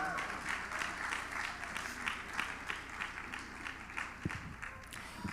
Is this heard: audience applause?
yes